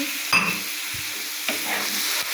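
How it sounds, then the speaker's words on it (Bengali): Eggs stir-fried with spices in a pan give a steady close sizzle, broken by a few quick clicks and scrapes of a stirring spoon. "ডিমগুলো দিয়ে এই মশলার সাথে একটু কষিয়ে নিচ্ছি কষিয়ে নিয়ে সামান্য একটু জল দিয়ে দিচ্ছি"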